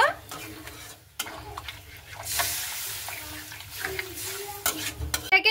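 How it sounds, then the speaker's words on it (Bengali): Flat beans stirred in a pan after a little water is added, giving irregular scraping and clattering of a utensil against the pan, close and moderately loud with no talk. "জলটাকে দিয়ে একটু ভালো মতো করে নাড়াচাড়া করে নেব"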